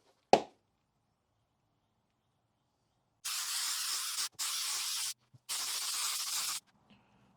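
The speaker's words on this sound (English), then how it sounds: "So let's give this a spray down." Aerosol spray can spraying adhesive while race seats are re-covered: one sharp snap at the start, then after a pause three steady hissing bursts of about a second each, separated by short gaps, close and alone.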